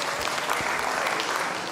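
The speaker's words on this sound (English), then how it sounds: "Give him an applause." An audience at an agricultural association's annual meeting and tenth anniversary celebration claps for a speaker, a steady dense wash of applause, loud and even from start to finish.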